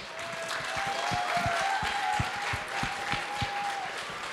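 Outdoor crowd at a youth winter sports event in Oberwiesenthal breaking into applause, a loud wash of clapping with distinct individual claps standing out, a tonal whistle-like line running through, sustained and steady.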